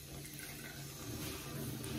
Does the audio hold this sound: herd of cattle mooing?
no